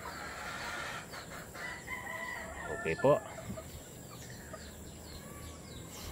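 Three gray fighting-cock hens and their gray rooster cluck in a breeding pen, a steady murmur of soft calls with one sharper, louder burst near the middle; a voice speaks briefly.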